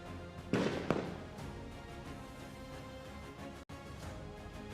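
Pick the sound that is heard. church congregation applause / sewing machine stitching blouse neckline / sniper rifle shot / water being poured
sniper rifle shot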